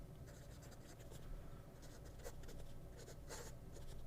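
A Diplomat fountain pen with a steel nib scratches softly across paper in a continuous, faint, close stroke with a few brief louder scrapes. No one talks.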